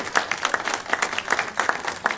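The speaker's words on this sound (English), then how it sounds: "So let's give Eddie a round of applause." Scattered audience applause from a small group at a 2017 webcast, a few hands clapping in uneven bursts across two seconds at moderate, fairly close level.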